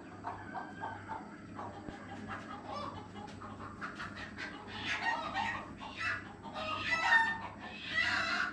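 A small native farm chicken clucks in repeated bursts, with crowing mixed in, close by and moderately loud over a low steady hum.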